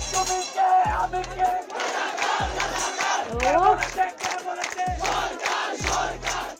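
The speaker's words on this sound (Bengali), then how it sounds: "বিশ্ববিদ্যালয়ের হলগুলো প্রকম্পিত হতে থাকে একটি স্লোগানে।" A large crowd of Dhaka University students chants a slogan in unison inside the residence halls, a loud, rhythmic call repeated over and over, with voices rising and falling together in steady waves.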